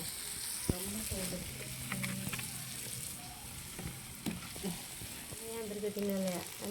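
Food frying in hot oil for a Tamil home-cooked meal, a steady close sizzle with occasional scrapes of stirring, while voices talk faintly over it.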